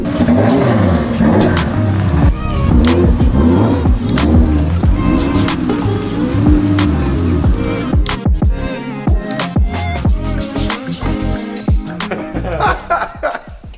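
A 2JZ-swapped Lamborghini drift car engine revs loudly up and down with sweeping pitch, then breaks into choppier, sharper bursts toward the end, close and unbroken throughout.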